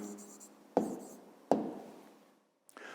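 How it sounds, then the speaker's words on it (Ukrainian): A pen writes an answer by hand on paper in a quiet room, with faint scratching strokes and two sharper taps as the pen meets the page. "а тепер записуємо відповідь. Пишемо відповідь."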